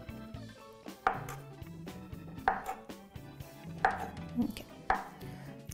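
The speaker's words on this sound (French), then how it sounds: "on a notre brique, notre carré de tofu ici. Je vais le couper comme ça." A knife cuts through a block of tofu into fry-shaped sticks on a board, four distinct thuds spaced about a second apart, close and fairly soft, with music playing quietly underneath.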